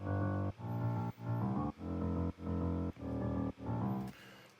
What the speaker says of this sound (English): So that's just a piano.